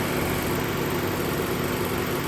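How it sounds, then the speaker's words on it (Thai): A 2021 Nissan March 1.2 E hatchback idles steadily up close, a smooth, even engine hum with a constant low pulse and no revving or voices. "เครื่องยนต์เดินเรียบปกตินะครับ"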